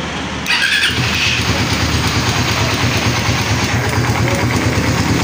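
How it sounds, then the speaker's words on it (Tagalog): Honda Raider 150 Fi motorcycle engine starting with a short starter whine, then catching and settling into a steady, close, rapid-pulsing idle. "paandarin muna natin para marinig nyo yung tunog ng makina"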